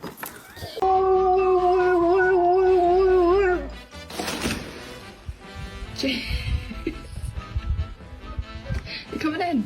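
A husky dog gives a long, loud, wavering howl up close for several seconds, then noisy household sounds and voices follow.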